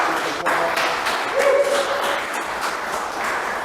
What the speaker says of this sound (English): Let's give Matt a big applause.